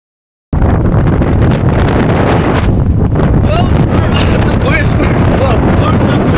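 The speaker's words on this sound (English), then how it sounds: "It's very fucking windy out here." Strong storm wind roars across a coastal hill in Antrim's Glens, buffeting the microphone as loud, continuous, unbroken rumbling after a brief silent start.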